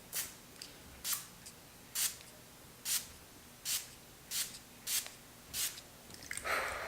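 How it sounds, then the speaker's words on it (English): Close, quick spritzes from a face mist spray bottle repeat about ten times in a steady rhythm, each a short, bright hiss. "So spray it really far from your face."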